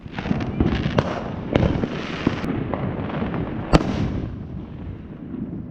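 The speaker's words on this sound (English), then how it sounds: "Nice horsetail willow." Horsetail willow fireworks burst in a dense, crackling roar, with sharp pops and bangs standing out over a continuous fizzing wash.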